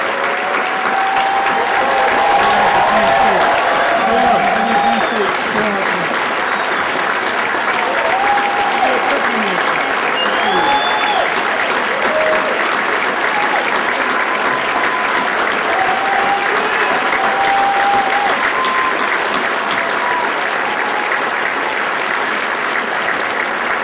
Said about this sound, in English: giving a big round, Democratic round of applause to my friend